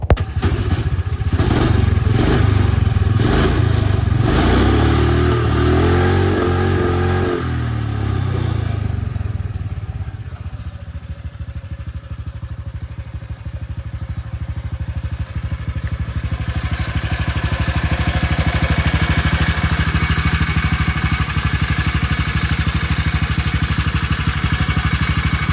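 Mini bike engine with a B200R or BT200X setup revving hard to its rev limit, loud rising rasp with clattering thumps early, then a sustained high whine that dips and climbs again.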